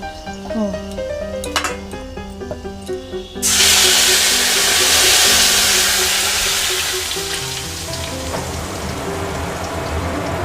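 Ground spice paste hits hot oil tempered with panch phoron for a light pangas fish curry, erupting into a sudden loud, close sizzle that settles into a steady hiss and slowly fades.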